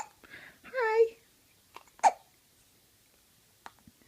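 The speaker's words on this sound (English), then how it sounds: "Got the hiccups again, little man." A baby boy hiccups in short, sharp isolated bursts spaced a couple of seconds apart, close and quiet, with a brief babbling vocal sound at the start.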